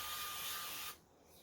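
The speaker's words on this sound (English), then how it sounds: "I'm just going to spray it with some olive oil spray" Olive oil spray hisses onto meatloaves in a pan for a loud, steady burst of just under a second, then cuts off.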